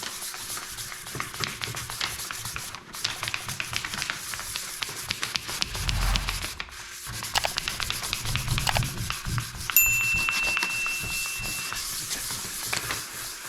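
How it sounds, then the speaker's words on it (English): Sandpaper of 400 grit scuffs the inside of a snowmobile windshield with close, continuous rubbing strokes, broken by a brief pause partway through. "I got some 400 grit sandpaper. I'll go ahead on the inside and just scuff this up."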